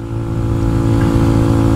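Kawasaki Z125 Pro motorcycle ridden through town, its small engine droning steadily and close with a constant low hum, no talking.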